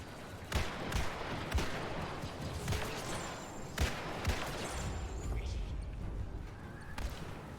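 Musket shots fired in Star Wars Battlefront II, heard as a series of sharp, irregular bangs and thumps over a continuous busy battle bed.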